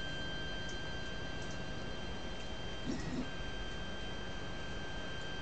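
A 3D printer prints a base, a steady mechanical hum with faint whining tones and a few soft ticks and taps near the middle, close and continuous with no talk.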